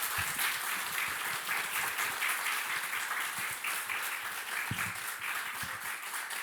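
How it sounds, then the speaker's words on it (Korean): A church congregation at a Sunday worship service applauds to welcome a guest preacher, steady, fairly distant clapping from many people filling the room with no talking. "큰 박수로 맞이하겠습니다"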